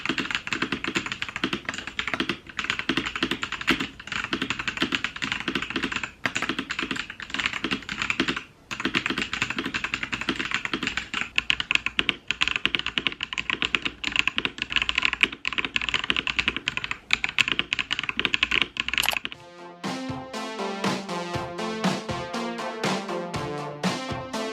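Keys clack rapidly and continuously on a self-built mechanical keyboard, a close, crisp patter of typing that runs for most of the stretch before giving way to soft melodic music at the end.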